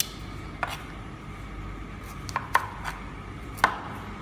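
Knife scraping and cutting the skin off a pumpkin for a Turkish pumpkin dessert, several sharp short cuts and taps at irregular intervals over a faint background hiss.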